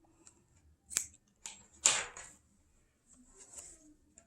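Scissors snip through crochet yarn while finishing a herringbone-stitch mini bag, a few short crisp cuts spaced about a second apart, close and quiet with no talking.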